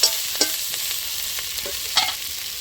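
Beto shak greens are stirred in a frying pan for a fish curry, with a steady soft frying hiss and a few sharp utensil scrapes near the start and again toward the end, close and moderately loud, without talking.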